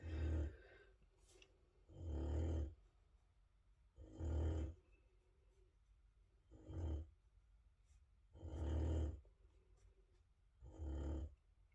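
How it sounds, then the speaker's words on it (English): Heavy, loud snoring from a sleeping animal nearby, six deep rasping breaths at a steady pace of roughly two seconds apart, with quiet gaps between them and no talking. "Oh, I'm so sorry about her snoring."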